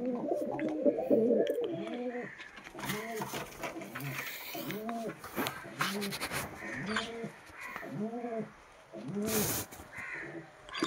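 Madras pigeons coo in repeated soft, throaty rolling calls at close range, a rhythmic series of bursts with someone talking over them.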